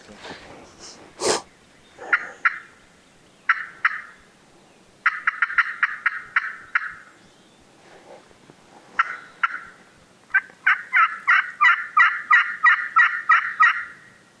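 A wild turkey gobbles repeatedly in rapid rattling bursts on a hilly ridge, fairly close and clear, with a few sharp calls between the gobbling runs.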